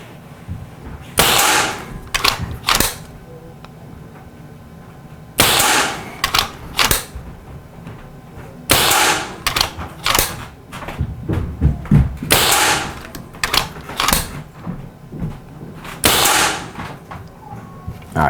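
Five air rifle shots crack at a target, each a sharp report spaced a few seconds apart, with quieter clicks and handling noises between them.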